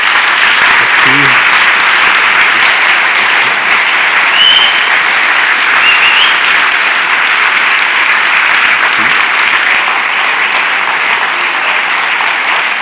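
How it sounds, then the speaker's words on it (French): Lecture audience gives loud, sustained applause after a talk on quantum physics, an even wash of clapping throughout. "je vous propose de remercier Nicolas avec des applaudissements"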